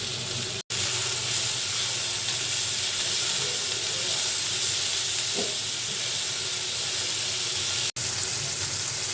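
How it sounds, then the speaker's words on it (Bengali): Garlic frying in mustard oil gives a steady, loud sizzle that holds evenly throughout, broken by two brief cut-outs and one soft clink partway. "রসুনটা আগে একটু ভেজে নিচ্ছি"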